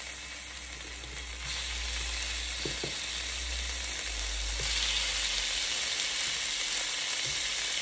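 Food sizzles steadily in a hot wok, a constant crackling hiss with a few soft clinks of utensils; no one speaks.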